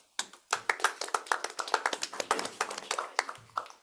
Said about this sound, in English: give themselves a round of applause right now